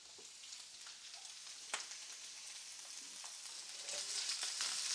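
Shrimp frying in a pan, a faint continuous hissing sizzle with a brief tap near the start that swells louder toward the end, close but quiet, no voices.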